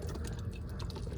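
Rainwater poured from a handheld jug to refill a container while a DirecTV Phase 1 satellite dish is cleaned outdoors; a short, steady splashing gush, close and fairly quiet.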